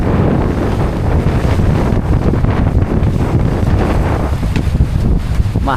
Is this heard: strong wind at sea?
yes